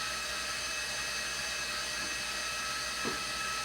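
An electric kitchen mixer beating whoopie pie batter makes a steady, unbroken motor whir with a constant broadband hiss, fairly loud and close, with no pauses.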